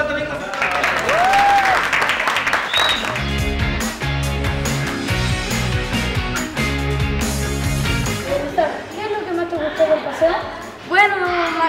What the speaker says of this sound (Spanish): ¡Aplausos para Domingo!